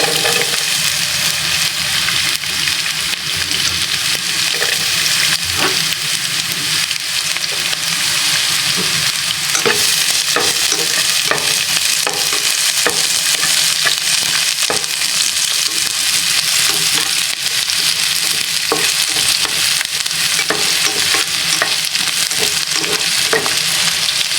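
Garlic sautéing in a hot pan for beef pochero, a steady loud sizzle with frequent scraping stir strokes, continuous and close for the whole stretch with no talking.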